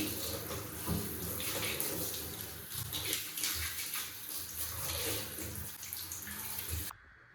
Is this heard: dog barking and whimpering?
no